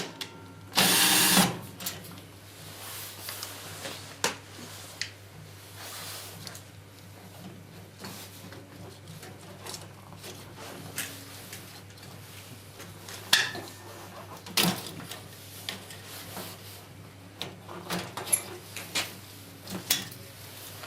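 Screws holding the heating element of a Beko DCRS76W tumble dryer are removed one after another. Scattered metallic clicks, scrapes and taps ring out over a low hum, with one louder clatter near the start.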